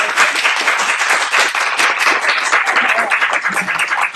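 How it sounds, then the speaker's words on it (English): An audience at a mayoral debate in a library claps steadily for about four seconds, a dense, even patter of many hands at close range, with no clear speech over it. "Huge applause for everyone because they've done a fantastic job."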